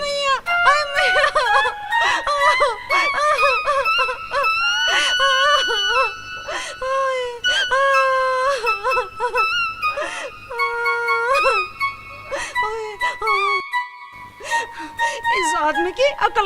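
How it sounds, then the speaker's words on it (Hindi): A woman screams and wails for help in loud, repeated, rising cries that break into sobbing howls, with short pauses between outbursts. "चिल्लाने की आवाज सुन के भी देखने नहीं आया, उठाने भी नहीं आया।"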